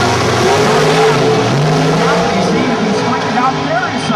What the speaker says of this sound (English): now there is some serious nitrous oxide going to work right there, aggravating that car